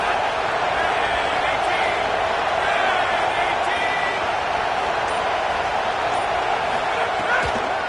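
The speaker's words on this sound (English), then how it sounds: "decibels rising as the crowd gets behind this defense on third down" A football stadium crowd on third down holds a steady, loud roar, broad and sustained throughout with no break, faint voices buried in the din.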